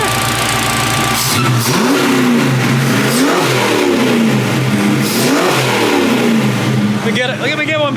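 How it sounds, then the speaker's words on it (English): A garage-housed car engine with headers, a 2.5-inch header-back exhaust with X-pipe and racing mufflers is blipped several times, each rev rising and falling in a loud, rhythmic series of sharp throttle bursts before the engine shuts off. "I'll crack it off a few times and shut it off so we can get some heat in the garage."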